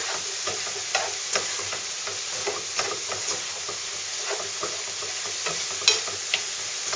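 Mince, onions, peppers and garlic frying in two tablespoons of oil for chili, an even close sizzle with occasional light knocks and stirring scrapes, no talking.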